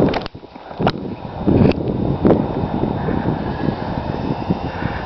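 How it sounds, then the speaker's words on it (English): Wind gusts outdoors at a paper airplane flying field, buffeting a small camera microphone with low, rumbling bursts that swell and fade over a few seconds. "The wind did pick up."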